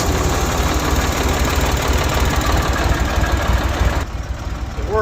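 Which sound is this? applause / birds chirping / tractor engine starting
tractor engine starting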